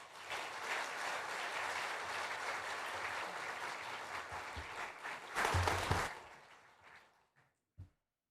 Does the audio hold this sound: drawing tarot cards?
no